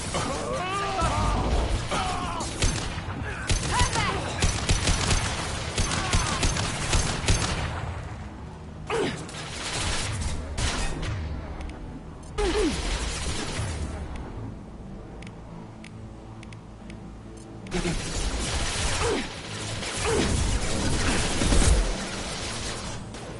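Sustained bursts of Mass Effect 2 gunfire rattle through a firefight, with dense volleys broken by brief lulls and impacts, while voices shout and talk over the action.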